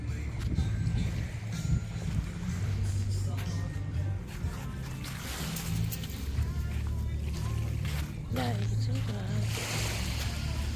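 Rough sea surf at Hat Krating Lai beach, a constant broad wash of breaking waves and wind close by, with someone talking over it throughout.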